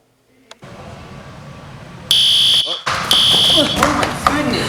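A fire alarm blares in loud, piercing electronic bursts after a short lead-in, cutting out briefly before resuming, with people's voices mixed in among the commotion.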